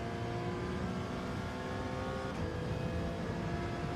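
Race car engines in a Gran Turismo-style racing game at the Deep Forest circuit drone continuously and loudly. The sustained revving tones rise and fall slightly and are heard alone, without talk.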